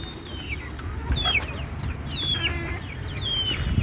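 Desi chickens cluck and chirp steadily on a rooftop, several birds calling in overlapping bursts over a low, constant background rumble, with no talk.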